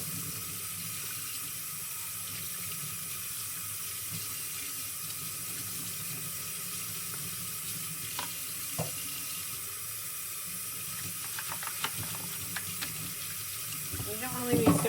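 Water runs steadily through a Wagner Flexio paint spray gun with the trigger held open to flush it clean, a continuous even hiss and splash that grows a little busier and louder near the end.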